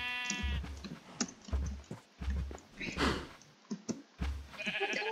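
Sheep bleating in the video game Minecraft, several repeated bleats over a low pulsing game background, with clicking from play mixed in.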